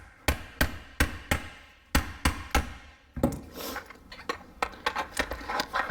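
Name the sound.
hammering a stuck part of a blower motor assembly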